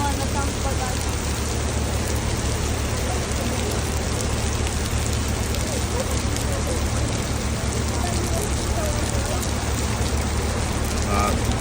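Steady rain falls on a city street in Russia, a dense, unbroken hiss with a low traffic rumble beneath it, constant and loud for the whole stretch.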